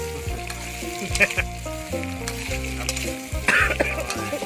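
Pork meatballs fry in a hot pan for a basil stir-fry, giving a loud continuous sizzle with crackling pops and bursts of stirring scrapes, close up and without talk.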